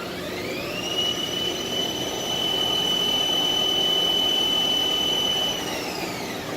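A Haas ST-30 CNC lathe with a 10-inch chuck spins up, its spindle running at 1100 with a steady high whine that rises, holds and then winds down, close and loud over machine hum.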